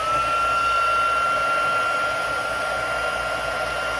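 A heat tool blows hot air over embossing powder on a card, a loud, steady whirring hum held unbroken throughout at close range.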